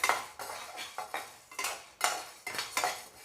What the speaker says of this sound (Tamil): இப்போ அடுத்து கடலைப்பருப்பை வறுத்துக்கலாம்